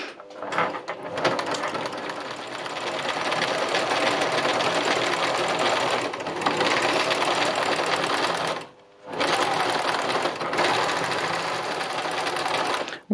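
A sewing machine stitches fabric in free-motion sewing, running as a fast continuous mechanical whir with a brief stop near the end before resuming, close and loud with no talking.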